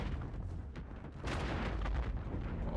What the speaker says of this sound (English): Ooh, look at that, he's firing.